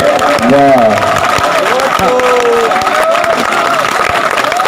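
A mushaira audience applauds and cheers in a crowded hall, a broad wash of clapping under loud voices calling out, with a sustained roar throughout.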